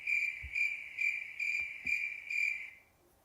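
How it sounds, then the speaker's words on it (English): Crickets chirp steadily in a pulsing high trill, about six evenly spaced bursts that fade out at the end, alone and fairly close. "Crickets."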